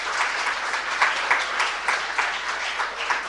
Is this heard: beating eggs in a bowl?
no